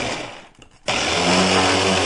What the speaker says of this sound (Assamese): এইখিনি ধুই মেলি মিক্সিত পিচি আনোগৈ